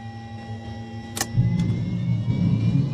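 A jet helicopter's turbine spools up on the starter, a steady whine and tones joined by a brief click, then a swelling low rumble as it gathers speed, close and continuous without talk.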